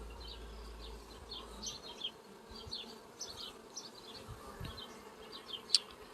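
Honey bees swarm around an open hive during an inspection, a dense steady buzz close by, with individual bees droning past and occasional soft handling knocks.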